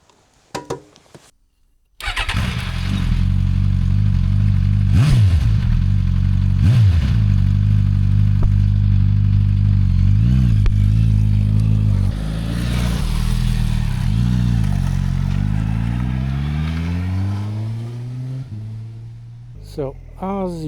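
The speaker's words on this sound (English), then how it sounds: "Let's see how this bike performs, how the engine performs, how it handles" A Suzuki GSX-S1000GX motorcycle engine starts after a short pause and runs loud and steady on a test ride, with repeated revs and gear changes and a final rising acceleration.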